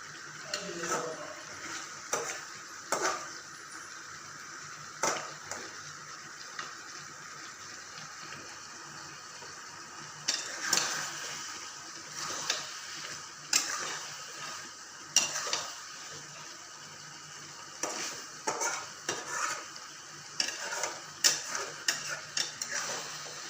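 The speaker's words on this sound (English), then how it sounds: "Till it becomes semi-dry, it is being sauteed." Chicken Manchurian sautéed in a pan until semi-dry, with a soft background sizzle under frequent rhythmic scraping and clinking of a spatula stirring, fairly quiet and close, no talk.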